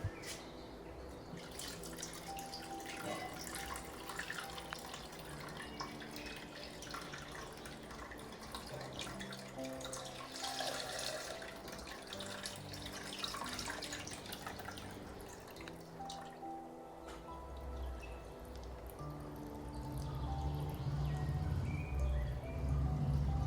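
Water is poured slowly into a glass terrarium tank built over soil with a pump, producing a faint, continuous trickling and dripping that thickens into a fuller splash toward the end.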